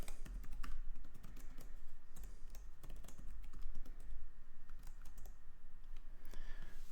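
Rapid, continuous typing on a computer keyboard entering a password, close and clear with irregular bursts of key presses over light background noise.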